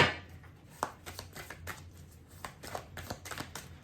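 Tarot cards being shuffled and drawn, a dense run of close, papery riffles and slaps in an uneven rhythm with sharper snaps between them, and no talking.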